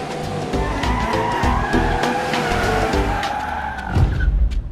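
A car with a punctured tyre skids to a stop, its loud rubbery squeal and engine noise close by, rising toward the end.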